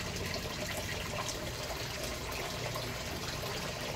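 Water flowing continuously from a spout into a home catfish pond with a 24-hour circulation system, a dense, steady splashing gush, close and loud without pause, no voices.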